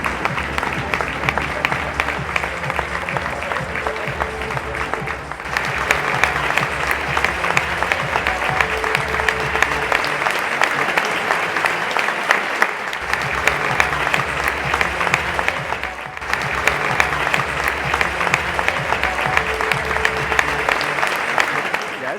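Baseball fans fill a stadium in Chiba with sustained applause for the visiting Orix Buffaloes after the Chiba Lotte Marines' 4-1 loss, a dense crowd roar that keeps going steadily with only brief dips.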